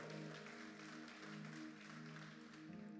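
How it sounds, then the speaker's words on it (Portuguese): A church congregation applauds during a worship service, with steady, dense clapping for the full stretch over sustained musical tones. "Você pode aplaudir o Senhor, meu irmão?"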